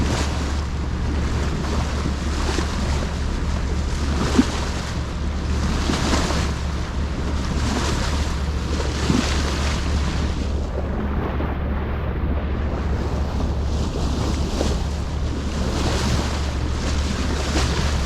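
A sailboat motor-sailing at very low RPM on the open Pacific off Mexico, a steady low engine drone under continuous wind and rushing ocean waves, constant and fairly loud throughout with no talking.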